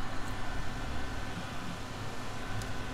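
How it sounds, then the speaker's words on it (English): Steady broadband whir of a fan running close by during soldering on a keyboard build, continuous and even throughout with no other sounds on top. "Sorry for the fan noise."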